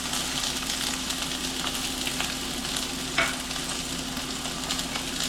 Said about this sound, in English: Let's put in our olive oil, a little bit, and then we're going to throw in our onions, get them going.